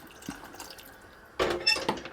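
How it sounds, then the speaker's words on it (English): Water trickles and splashes into a pan of spaghetti bolognese sauce, faint drips at first, then a louder pour of a few seconds, heard close with no talking. "A little bit more water."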